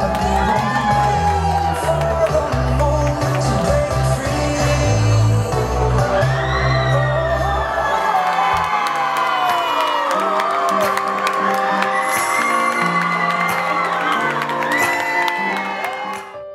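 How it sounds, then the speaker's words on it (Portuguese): A large crowd of family and friends at Clube Curitibano cheers and applauds continuously, with whoops and excited shouts rising over steady clapping throughout. "Familiares e amigos não cansavam de aplaudir e de ovacionar."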